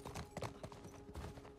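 Horse hooves clip-clopping in the video game The Last of Us, a quick irregular run of hoof beats under a steady low engine-like hum, with faint voices.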